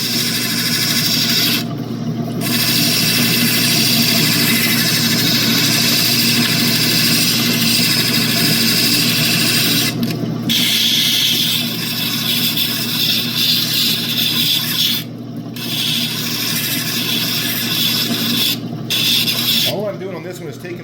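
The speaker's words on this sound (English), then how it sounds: "All I'm doing on this one is taking the facets and the grind marks out of that last wheel." A lapidary wheel grinds an opal, removing facets and grind marks, a steady close machine drone with a continuous whine and several short breaks where the stone lifts away.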